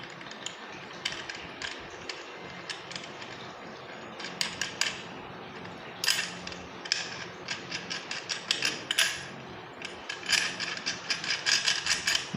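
Long L-shaped bolts being fitted onto a chainsaw adapter for an angle grinder, giving close, irregular metallic clicks, ratcheting taps and light clanks in quick clusters over a faint background hiss, with no talking.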